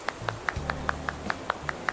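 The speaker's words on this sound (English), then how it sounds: "Clapping." In Animal Crossing: New Horizons a character performs a clapping emote, giving about ten crisp, evenly spaced claps in a quick steady rhythm over faint background music.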